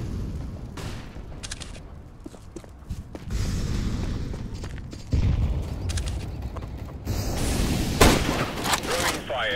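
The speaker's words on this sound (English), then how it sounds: "flashbang." A flashbang grenade goes off in Counter-Strike: Global Offensive, a sharp bang and ringing after steady gameplay rumble and a few clicks and footsteps, with a game voice calling out around it.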